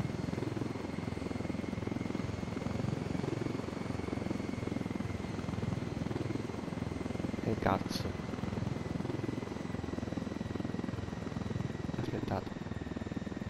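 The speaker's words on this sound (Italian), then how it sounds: "abbiamo preso questo elicottero che non è proprio dei più veloci" Helicopter flying in the video game Ghost Recon Wildlands, a slow aircraft, giving a steady, continuous rotor and engine drone throughout, with a voice briefly over it.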